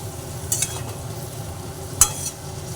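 Pieces of teasel gourd (kakrol) are stirred and fried in a pan, a soft continuous sizzle broken by a couple of sharp scrapes and clinks of the spoon against the metal.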